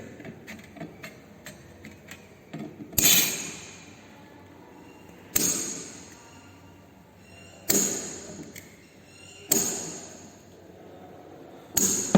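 Straight snips cutting galvanized iron sheet in a sheet metal shop: a series of sharp metallic snaps, each followed by a ringing decay, spaced a couple of seconds apart, preceded by lighter quick clicks, close and clear.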